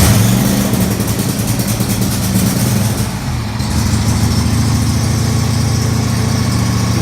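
A small machine engine runs loudly and steadily after being started on choke with the push button, a continuous close drone with a brief dip midway before resuming.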